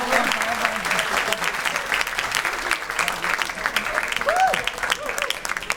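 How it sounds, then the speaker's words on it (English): Sustained audience applause fills a public interfaith discussion hall, dense and steady throughout, with a brief voice rising faintly above the clapping. "she deserves another round of applause"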